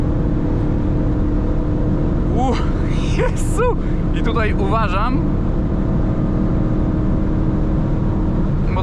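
A 2020 Dodge Charger R/T 6.4 Scat Pack (492 hp) at 200-250 km/h on a highway makes a loud, steady roar of engine and wind from inside the cabin, with the driver briefly exclaiming and talking over it.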